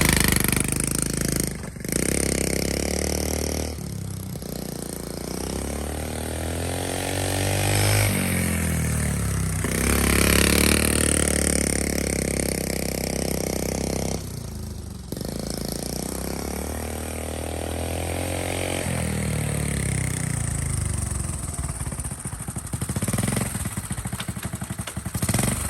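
A small Honda Z50K2 motorcycle engine idles on choke, a loud close putter that surges and sags unevenly, with brief dips where it nearly stumbles before picking back up.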